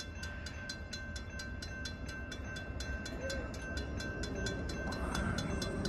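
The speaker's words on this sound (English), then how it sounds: "Alright, we got an eastbound CSX train down the line" An eastbound CSX freight train rolls past at Bayview Road in Blasdell, New York, a loud continuous rumble with rhythmic wheel clicks over rail joints and a faint steady tone throughout.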